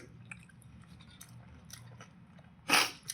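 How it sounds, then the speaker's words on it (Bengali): Someone biting into a boiled duck egg with an orange yolk, a single close, crisp bite near the end over a faint low background hum. "একটু ডিম খাই।"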